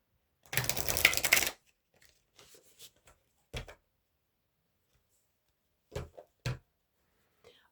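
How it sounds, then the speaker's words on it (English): A Bibliophile Oracle card deck is shuffled in one quick, papery riffle lasting about a second. A few soft clicks and taps of the cards follow, scattered through otherwise quiet surroundings. "Shuffle."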